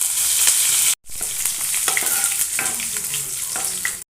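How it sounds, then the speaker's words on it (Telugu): Mustard seeds, cumin and curry leaves sizzle and crackle in hot oil as a tempering for gongura dal. The sizzling is loud and continuous, with a brief break near the one-second mark. "తాలింపుకి సరిపడా ఆయిల్ హీట్ ఎక్కింది. 1 టేబుల్ స్పూన్ ఆవాలు, 1/2 టేబుల్ స్పూన్ జీలకర్ర,"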